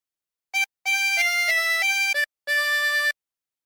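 Single harmonica plays the melody of Ampar-ampar Pisang, a short blown note followed by a run of sustained reedy tones in separate phrases, clear and alone with brief pauses.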